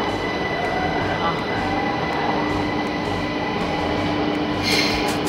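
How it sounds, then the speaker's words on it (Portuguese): A train rumbles steadily through a station in Vienna, Austria, with a constant low roar and faint metallic squeals, loud and close throughout, with muffled voices underneath. "Uma típica estação de trem, não só na Áustria, mas como na Europa"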